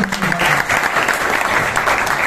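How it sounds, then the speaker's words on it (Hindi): Loud, dense applause from a crowd at a seminar, steady throughout with no talking. "तो सभी साथियों का एक बार जोरदार तालियों की विनती"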